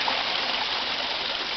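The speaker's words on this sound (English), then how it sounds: "I can only see the water rushing down the steps." Flood water rushing down steps at a house in the dark, a steady broadband gush and splash heard alone, moderately loud and unbroken.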